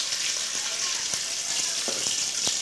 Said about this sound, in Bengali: হালকা ভেজে নিচ্ছি আমি